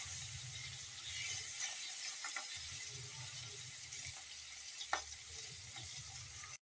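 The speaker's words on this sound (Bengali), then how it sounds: "এখন মাছটাকে আমি লাল করে ভেজে নেব বন্ধুরা, তারপর মাছের চচ্চড়ি বানাবো।" Fish frying in a pan of hot oil before going into a Bengali fish chorchori gives a steady, soft sizzling hiss with faint crackles and an occasional small pop, with no talk.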